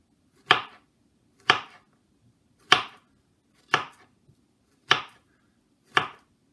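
Bananas being sliced for banana and chocolate muffins, six crisp knife chops on a board at a slow, even pace, each one sharp and close against near silence.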